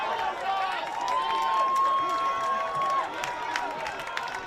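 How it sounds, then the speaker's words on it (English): Home crowd noise at a Chaffey vs PCC college football game, fans cheering for the Lancers, a steady, fairly loud wash of voices with a whistle-like tone holding through the middle. "Home crowd showing their Lancers some love"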